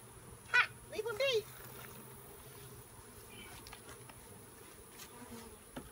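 Honeybees buzz faintly around a hive box during a nuc transfer in a steady low hum, with a few brief higher chirps early on.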